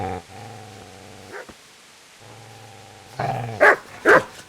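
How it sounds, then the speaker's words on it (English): A dog in the Kingdom Come Deliverance video game growls low at the player, pauses, growls again, then breaks into a few loud, close barks at the end, with no talking. "Get away, you mutt!"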